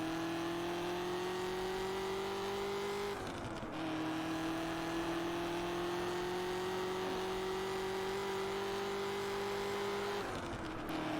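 A car engine drones steadily while driving in the racing game Test Drive Unlimited, holding an even tone with two brief dips like gear shifts, loud and continuous with no talk.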